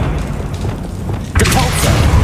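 Accio summoning spell cast in the video game Hogwarts Legacy, a sudden whooshing burst with a low thump that swells midway and lingers as a sustained magical rush, with a voice under the low rumble of game audio.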